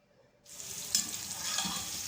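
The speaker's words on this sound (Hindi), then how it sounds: "ये स्टार्ट हो गया है ब्राउन होना हमारा प्याज" Boiled onions browning in a pan hiss and sizzle while a spoon stirs them. The sound starts suddenly after a brief silence and then holds steady and close for about a second and a half, with no talking.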